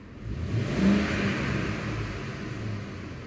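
Car engine revving as the gas pedal is pressed during a catalytic converter diagnosis, a faint mid-pitched rev that climbs quickly, peaks, then eases back to a steady hum.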